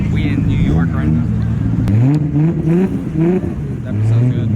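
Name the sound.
cars revving at a two-step car meet competition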